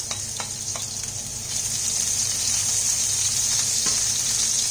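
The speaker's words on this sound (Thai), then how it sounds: "นี่คือเจียวหัวหอมนะคะ" Shallots fry in hot oil, a loud, continuous close-up sizzle that swells after the first second, with a few faint clinks of a utensil against the pan.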